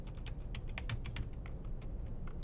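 Quick, steady tapping of fingers on a computer keyboard, close and fairly quiet, with irregular keystroke rhythm and no voices.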